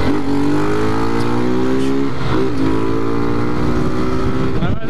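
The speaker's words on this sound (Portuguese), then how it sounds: "Eu acelero, tá ligado? Eu não minto, eu acelero mesmo." A motorcycle engine accelerates through traffic, its steady rising drone loud and close throughout, with a brief shift midway and road noise underneath.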